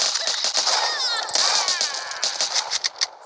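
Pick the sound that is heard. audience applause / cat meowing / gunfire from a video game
gunfire from a video game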